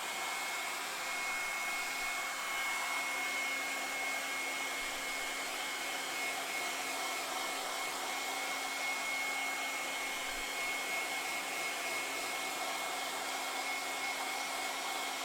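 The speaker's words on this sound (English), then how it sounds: "let Joe use the air dryer" An air dryer blows steadily to dry wet paint on a small bowl, a constant close whoosh with a faint steady hum, running unbroken and alone without any talk.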